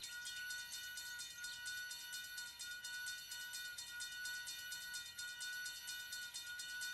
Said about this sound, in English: It has a little air turbine that charges the battery.